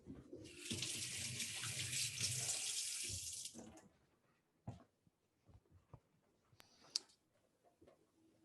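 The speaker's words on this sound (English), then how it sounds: "turn off the heat and rinse off my hands" A kitchen tap runs in a steady hiss for about three seconds while hands are rinsed, then shuts off, followed by faint drips and soft clicks close by.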